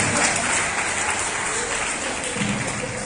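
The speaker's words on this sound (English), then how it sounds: "Can you have a big round of applause?" A crowd at a special school's Diwali decoration exhibition gives steady, dense applause for a first-place winner, continuous and fairly loud throughout.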